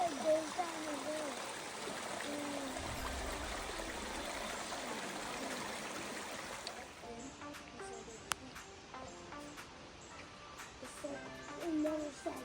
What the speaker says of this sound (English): This one was actually dropping 442 feet straight down into a really lush gorge that was surrounded by ferns and bamboo.